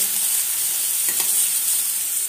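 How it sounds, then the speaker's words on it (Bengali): Vegetables fry in a pan for Maggi noodles, a loud, even, hissing sizzle filling the whole moment, with a faint scrape of stirring midway and no talking. "এখানে সবজিটা ভেজে ম্যাগিটা দিয়ে মশলা দিয়ে নামিয়ে নেব"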